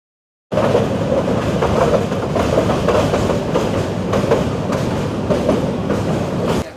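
A passenger train running on rails in Bangladesh, a loud close steady rumble with rhythmic clickety-clack from the wheels, starting abruptly after a moment of silence and continuing without voices.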